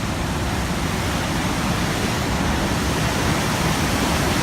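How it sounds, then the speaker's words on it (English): Siffleur Falls, a waterfall in Alberta, roars in a loud, steady, unbroken rush of falling water heard up close. "so here's the first set of falls"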